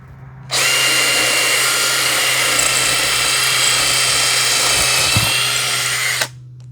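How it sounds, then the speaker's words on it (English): A power drill with a masonry bit whines continuously for about six seconds at close range, boring steadily into masonry before stopping abruptly. "I'm going to need to get my masonry drill bit, put a hole in, and then hang the light"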